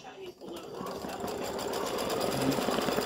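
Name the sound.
embroidery machine stitching tack-down stitch on fabric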